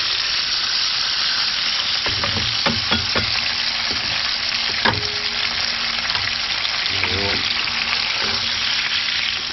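Fish, caught while trolling, fries in a pan until brown and crispy, giving a steady loud sizzle with occasional clinks and scrapes of a utensil against the pan.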